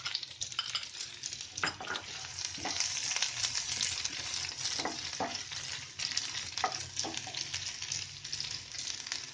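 Onion and garlic frying in oil in a pan for kadhi, a steady close hiss and sizzle with occasional stirring scrapes and utensil taps throughout.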